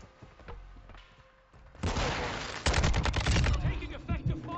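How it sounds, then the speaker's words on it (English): Gunfire in the Modern Warfare video game, a sudden rising barrage of rapid shots after a quieter opening, dense and loud through the last few seconds. "Taking effective fire!"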